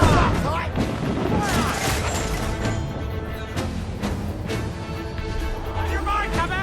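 Ship cannons fire in a naval battle in Assassin's Creed IV Black Flag, a dense run of booming blasts and crashes over several seconds beneath shouted voices and a busy game mix.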